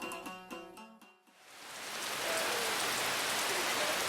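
Heavy rain pours down in the Sulawesi jungle near Mandar, rising from a lull after a short musical phrase into a dense, loud, steady hiss of drops on foliage.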